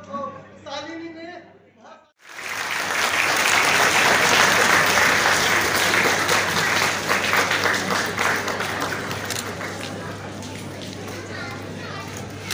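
Audience applause at a national physical-education awards ceremony swells after a brief spoken moment and holds as loud, steady clapping from a large crowd, with children's voices and cheers mixed in before it thins slightly toward the end.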